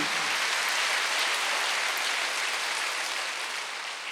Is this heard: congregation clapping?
yes